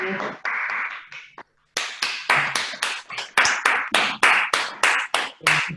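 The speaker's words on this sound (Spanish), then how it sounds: "Le vamos a dar un buen aplauso." A small audience claps at the close of a family law institute talk, a sparse burst of distinct hand claps in a fairly close room after a brief pause.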